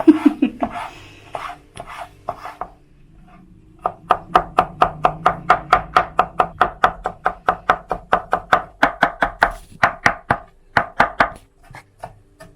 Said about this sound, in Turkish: Böyle ince ince kesiyoruz.